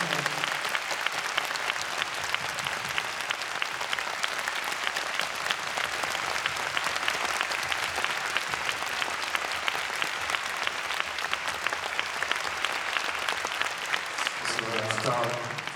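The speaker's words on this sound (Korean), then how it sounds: "다시 한번 큰 박수 부탁드리겠습니다" Concert audience applause fills a large hall at the close of a great concert, dense steady clapping sustained throughout, with a brief low voice near the end.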